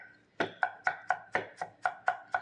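Water chestnuts are chopped with a knife on a chopping board, giving about nine crisp, evenly spaced knocks heard close up and fairly quiet, with no talk.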